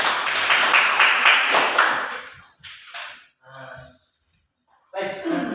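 Students in a classroom clap together in a brief, energetic burst lasting about two seconds, followed by quiet gaps and short bits of talk.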